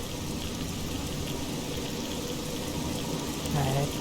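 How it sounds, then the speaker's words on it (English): Steady rain in the video game Fallout 3, a constant broadband hiss of falling water that holds evenly throughout, with a faint low tone near the end. "Yeah, I definitely want to get out of this rain."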